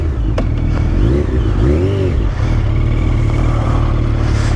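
A Yamaha FZ-09 motorcycle engine revs nearby, loud and continuous, its pitch rising and falling through a couple of throttle blips over a steady low idle rumble.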